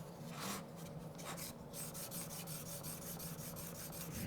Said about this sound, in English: This is a finer grit. It's about a 1200 diamond stone.